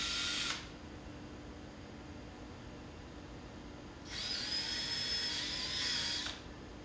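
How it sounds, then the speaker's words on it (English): A power drill bores mounting holes into a wall for a reverse osmosis filter unit, two short steady whirring bursts, a brief one at the start and a longer one near the end, heard close with no talking. "Drill holes for the mounting hardware on the 2 marks on the level line."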